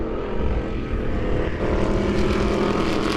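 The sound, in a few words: race cars in heat race at Lebanon I-44 Speedway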